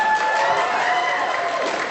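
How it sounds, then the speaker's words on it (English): A horror fan convention crowd at a Q&A session bursts into applause and cheering, a dense, loud, continuous roar of clapping with a whistle-like tone riding over it, lasting briefly. "Round of applause for that."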